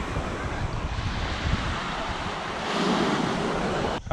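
Waves break and wash on the beach at Cala Torta, Mallorca, a continuous loud surf roar mixed with wind buffeting the microphone, with no speech.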